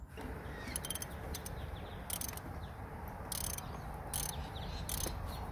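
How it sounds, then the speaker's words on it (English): A socket ratchet loosens the oil pressure sensor on an LS1 V8 engine, giving short, soft clicking bursts close by over a steady background hum, with no talk. "the socket just goes over the sensor, just like that, and then I can undo it."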